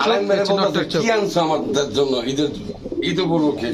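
Domestic pigeons, including a hen, coo in repeated rolling, throaty calls close by, with a voice talking over them throughout.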